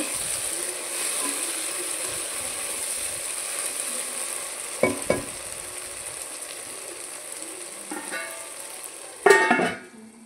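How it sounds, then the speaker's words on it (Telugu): Tomato pieces with chili powder cooking in a pan for a brinjal, tomato and dried prawn curry give a steady, soft sizzle, with a few scraping stirs midway and a louder clatter near the end. "మంచిగా టమాటా ముక్కలంతా మంచిగా మగ్గింది. మనం కారం వేసుకున్నాం."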